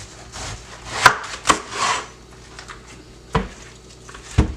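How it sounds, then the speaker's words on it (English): A knife cutting a head of cabbage in half on a cutting board for sauerkraut, a few sharp separate chops and crunches close up, then two more distinct thuds of the blade hitting the board. "you're going to cut your cabbage. First, you're going to want to cut it in half"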